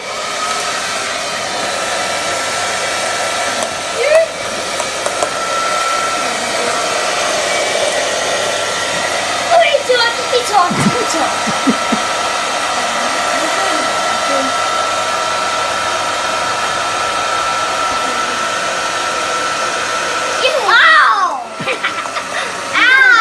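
Hairdryer blowing steadily to float a ping pong ball above a loo roll, a loud continuous whoosh held throughout, with children's giggles and brief voices breaking in now and then.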